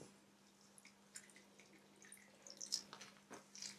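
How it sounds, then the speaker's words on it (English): Water drips and trickles softly onto garden plant cuttings as they are watered, a faint scatter of small irregular drops close by with a low steady hum beneath and no talking. "Give them a little water."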